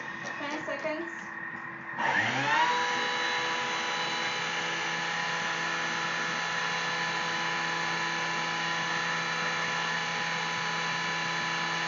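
A Thermomix blending a chocolate mixture gives a steady, loud motor whine with a high pitched hum that kicks in after a short softer start and holds evenly to the end.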